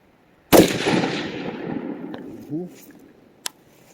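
A single loud, sharp rifle shot from a Geissele Super Duty rifle, followed by a long rolling outdoor echo, a brief voice and a faint later click.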